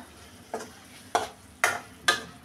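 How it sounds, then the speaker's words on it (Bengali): Spice paste with chopped tomato and green chilli is sautéed in oil for a river poa fish curry. Four distinct, evenly spaced scraping stirs ring out over a faint sizzle. "সব কিছু ভালোভাবে কষিয়ে নিব, তেল উপরে উঠে আসা পর্যন্ত কষাবো।"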